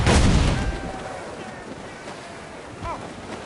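Ship cannon fire on open water in Assassin's Creed Black Flag, a heavy boom opening the clip and then fading into wind and surf, with another dull thud near the end.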